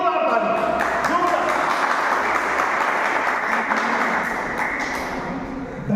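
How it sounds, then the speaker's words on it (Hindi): Hearty clapping from an audience welcoming the chief guest at a financial success event, dense and steady for several seconds before thinning slightly at the end, with no voices over it. "प्लीज जोरदार ताली।"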